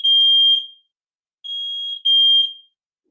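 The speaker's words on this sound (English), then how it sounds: "And there's a fire alarm." A fire alarm shrills in three high electronic tones during a presentation: a half-second blast, a pause of nearly a second, then two more blasts, loud and alone with no talk over them.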